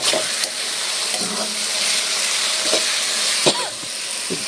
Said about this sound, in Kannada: ಈ ಕಡೆ ನೀರು ಬಿಸಿಗಿಟ್ಟಿದ್ದೀನಿ. ನೀರಾಗಲೇ ಕುದೀತಾಯ್ತು.